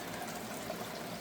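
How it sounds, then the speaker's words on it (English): A hose continuously drops fresh water into a backyard pond and creek, making a constant close splashing trickle with no talking. "It's got a hose running in, dropping continuously fresh water into the pond, into the creek."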